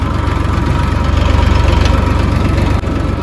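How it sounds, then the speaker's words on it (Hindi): A 10–12 year old tractor engine runs loud and steady at close range, a continuous low chugging rumble with even vibration and a brief dip near the end, no talk. "10-12 साल पुराना ट्रैक्टर है,"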